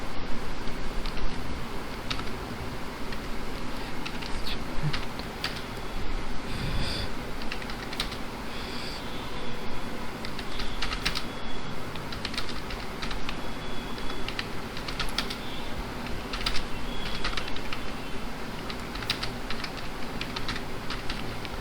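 Steady computer keyboard typing while HTML code is written for a webpage footer, continuous dense clicking close to the microphone across the whole span, with faint background hum and no talk.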